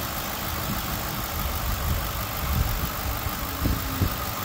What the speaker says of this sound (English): Idling nice and smooth, and it revs up really nice.